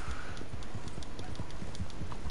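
Horse hooves clip-clop at a steady trotting rhythm in the video game Red Dead Online, close and continuous over low game ambience.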